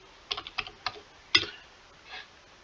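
Someone types a search on a computer keyboard with a short run of light, close key clicks, a pause, then a heavier tap and one last soft keystroke.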